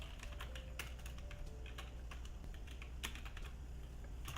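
Rapid typing on a computer keyboard, a dense run of crisp key clicks at close range with uneven rhythm and no talking.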